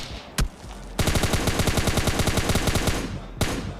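A single gunshot is followed by a long, rapid burst of automatic fire and then one more shot. The gunfire is loud and mechanical, coming from a solo-versus-squad match in the mobile game PUBG Mobile Lite.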